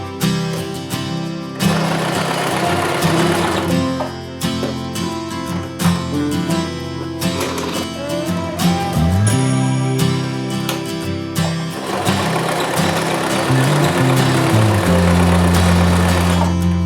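Sewing machine stitching after adjustment and calibration, with a fast, even mechanical whir of stitches that runs in long steady bursts, briefly pauses, then resumes alongside background music.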